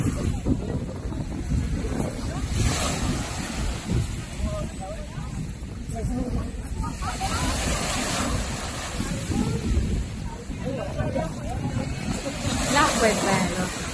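Steady gusty wind blowing outdoors at a beach, broad rushing noise throughout with low rumbling buffeting, near the sea.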